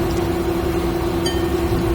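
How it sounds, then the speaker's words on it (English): A train in Train Simulator 2016 running on track at about 108 miles an hour, a steady rolling rumble with a sustained tonal hum, continuous and moderately loud. "our train is still running at 108"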